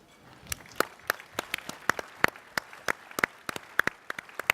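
A small audience at a luncheon claps steadily, sharp individual hand claps spaced irregularly over several seconds, moderately close.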